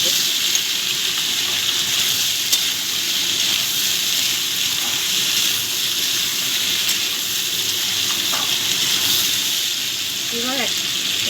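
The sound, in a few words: tomatoes frying with salt in pan, stirred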